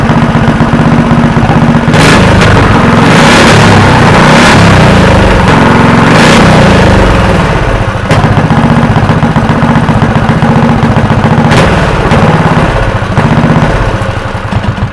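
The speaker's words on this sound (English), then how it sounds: "Just gonna put some engine heat in it and see if she'll rev this time." Dirt track racing engine fitted to a streaker go kart runs loud and close, a rough throbbing idle broken by several sharp revs that rise and fall throughout, the motor sounding uneven and choked at times.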